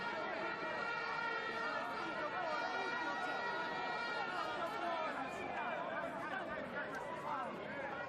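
Large crowd of football supporters at a Zambia youth match in a stadium, a steady dense roar of chatter and cheering filling the whole stretch, fairly distant, with voices mixed into the din.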